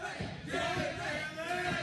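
Wrestling crowd in an arena rallying behind Jalen White during a tag match, a steady broad roar with rising cheers and shouts that swell and hold at constant loudness.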